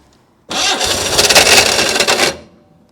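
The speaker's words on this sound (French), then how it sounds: "Ouh, on dirait que ça bloque le démarreur." A hot-wired car's starter motor cranks the engine in one loud, close, continuous grinding burst lasting about two seconds before stopping, without the engine catching.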